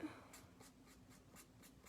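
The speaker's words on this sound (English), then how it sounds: "I'm just gonna color right off the edges of it," A marker colors on paper in quiet, rhythmic scratchy strokes, about six short back-and-forth passes, close and faint.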